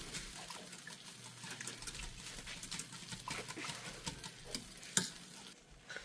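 Sandwiches sizzle gently in a pan after being flipped, soft frying with intermittent scraping and a sharp clink near the end, quiet and close.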